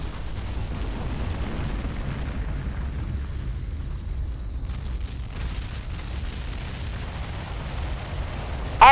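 Bombardment explosions in the video game Ground Control roll together into a continuous, heavy low rumble with broad crackling noise, steady throughout and swelling slightly at the end.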